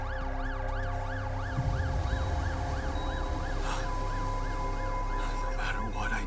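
An ambulance siren wails in The Alters video game, a steady rising-and-falling electronic tone looping continuously and loudly over a low background drone, with brief noises near the end.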